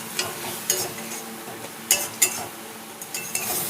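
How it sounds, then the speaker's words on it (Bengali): Ground coriander and cumin with a splash of water sauté in a pan, a soft sizzle broken by a few spoon scrapes and light clinks against the metal. "ধনে গুঁড়ো 1 চামচ, জিরে গুঁড়ো 1 চামচ দিয়ে একটু জল দিয়ে দেব। ভালো করে এটা কষাবো আরও 2-3 মিনিট।"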